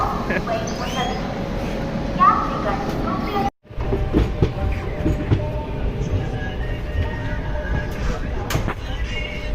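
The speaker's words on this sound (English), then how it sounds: "the train is standing right there" A steady rumble of rail noise from a standing-then-moving train near Visakhapatnam runs throughout with clicks and rattles, briefly cutting out midway, while people talk over it.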